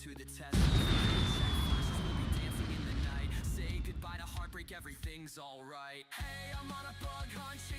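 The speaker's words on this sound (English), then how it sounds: "Some fancy fireworks." Fireworks burst in the video game Everywhere with a loud rumbling blast and crackle that fades over several seconds, while a person talks over the tail of the explosions.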